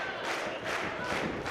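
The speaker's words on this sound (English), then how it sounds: "The crowd pretty hyped here for our opening match at Plancha Tendencies." A hyped crowd at an independent wrestling show in Ontario, Canada, cheering and shouting in a continuous roar with rising swells, fairly faint and without speech.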